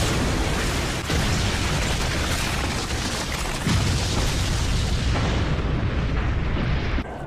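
A sustained, roaring blast of noise rumbles on for several seconds, loud and dense like a long cartoonish explosion, tapering off at the end. It is an explosion in the anime Naruto Shippuden.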